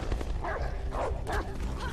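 An attack dog in Beyond: Two Souls gives three or four sharp barks in quick succession over a low background rumble.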